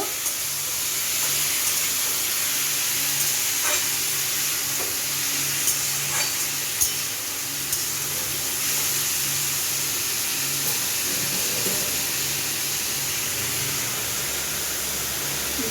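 Food fries in a pan and gets stirred for a long stretch, with a continuous close sizzle broken by occasional scrapes and taps.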